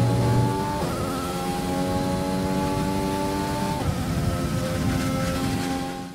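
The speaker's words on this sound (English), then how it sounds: "I'll leave you on board with the engine sounds." Mercedes-engined Racing Point Formula 1 car heard on board in the F1 2020 video game, its engine droning loud and steady at high revs with gear-change steps in the pitch and no talk.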